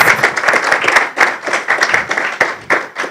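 Graduation ceremony audience applauding, a sustained crowd of claps with uneven rhythmic bursts, loud and near, no voices standing out.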